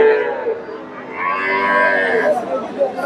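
A Friesian dairy cow moos at a Bogura cattle market, a long drawn-out bellow rising and falling close by and clearly in front of the market din, with no talk over it.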